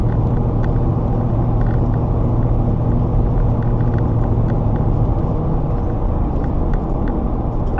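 A car driven on a highway at night, a loud continuous engine and road rumble, close and steady throughout with no talk.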